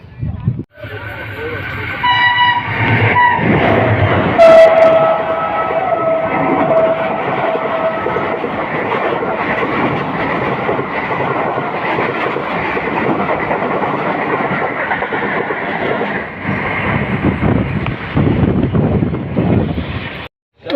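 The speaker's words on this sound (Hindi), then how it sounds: "फेरोजा रेलवे स्टेशन पर पहुँच चुके हैं।" A long-distance express train stands at Feroza railway station, its steady mechanical rumble filling the platform with a brief horn-like tone early on, while a person talks over the constant background noise.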